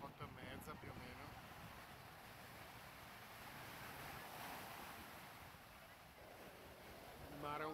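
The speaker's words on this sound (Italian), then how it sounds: "Ci sono parecchie onde, belle alte." Steady wash of high sea waves breaking on a crowded Cancun beach at midday, a continuous roar blended with wind buffeting the microphone, with faint voices in the background.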